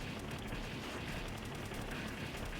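Dense, continuous gunfire in a shooter video game, loud rapid bursts packed together with no gaps and no voices.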